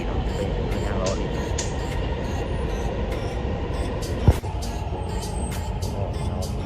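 Steady rumble and rail noise from inside a Dubai Metro train during a ride, with a brief sharp knock partway through and faint speech-like sounds under the continuous hum.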